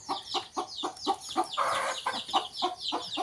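Chickens clucking close by in a quick run of about a dozen short, rhythmic clucks, with a brief rising squawk in the middle.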